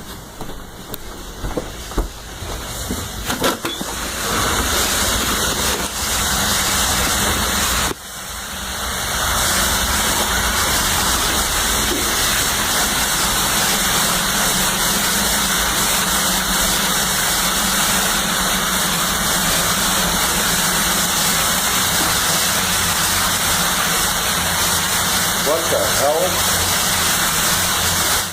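An electric heater motor sitting in standing water makes a steady, loud mechanical hum and whir that drones on through the clip, with a brief break near the start and a voice exclaiming over it.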